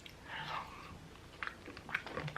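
Someone chews vanilla ice cream with chocolate pieces and almonds, close and quiet, with soft wet bites and a few sharper crunchy clicks spread across a couple of seconds.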